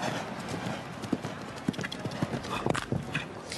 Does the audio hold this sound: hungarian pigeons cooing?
no